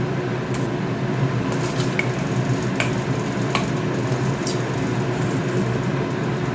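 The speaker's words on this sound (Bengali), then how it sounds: "কড়াইতে সর্ষের তেল দিয়ে দিচ্ছি এবার ইলিশ মাছগুলো হালকা ভেজে" Hilsa fish fry lightly in mustard oil in a kadai, making a constant close sizzle broken by a few sharp utensil clicks and taps, with no talking.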